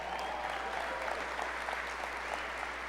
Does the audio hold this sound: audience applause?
yes